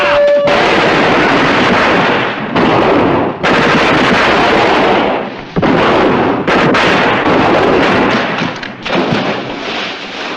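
A battle from the war series Convoy, with loud, sustained machine-gun bursts and heavy gunfire rattling almost without pause. Short gaps separate the volleys, and some deeper booms sound like artillery.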